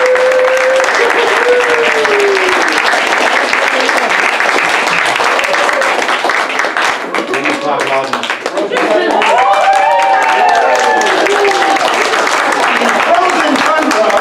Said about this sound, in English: Give them a round of applause as they come in.